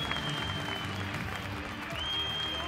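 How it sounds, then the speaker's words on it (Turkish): An audience applauds steadily at a Turkish League e-sports grand final, a dense, continuous wash of clapping and crowd noise with a faint tone running over it. "Son bir alkış lütfen."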